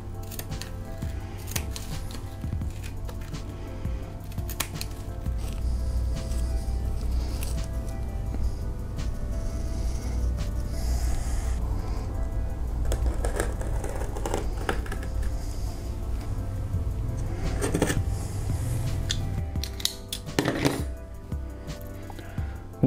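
Scissors snip steadily through a piece of long pile fur for a fursuit, with soft repeated crunching cuts and rustling of the fabric, close and fairly quiet with no speech.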